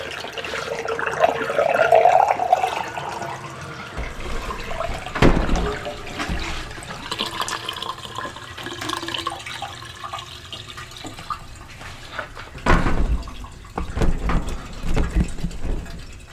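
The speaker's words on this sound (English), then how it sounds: "You guys can see the water draining there." Greasy water drains from a clogged laundry tub with a steady rushing, gurgling wash, punctuated by sharp knocks and clunks and a deeper glug near the end.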